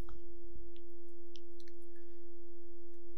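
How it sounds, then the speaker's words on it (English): A pure single-frequency sine tone holds steady and alone for about three seconds, clean and constant, with faint background noise underneath. "Sound of single frequency is called a tone."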